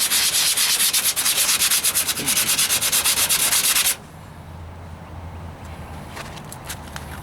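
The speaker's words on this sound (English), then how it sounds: "So I'll probably switch to an 80 grit after this to get these 40 grit scratches out and make it smoother." Coarse 40-grit sanding of body filler on the driver's side wheel arch of a 1998 Ford Ranger, outdoors: loud, steady rhythmic rasping strokes for about four seconds, then stopping to leave quieter background noise.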